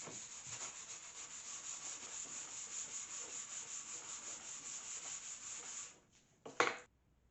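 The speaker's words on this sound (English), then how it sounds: "The tarnish gave under the pressure of the brush and increasing grits of sandpaper." Steady scrubbing and rubbing of a brush and sandpaper over a rusty, tarnished vintage hand saw blade, a continuous close abrasive hiss that stops near the end, followed by a brief louder scrape.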